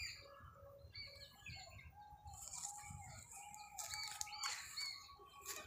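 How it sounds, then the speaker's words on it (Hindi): Birds chirp and call in a quiet forest, several faint tweets and trills scattered across the stretch with soft flutters, distant and sparse with no talking. "यहाँ पर बस चिड़ियों की चहचहाने की आवाज़ आ रही है"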